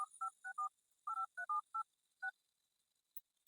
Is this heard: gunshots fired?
no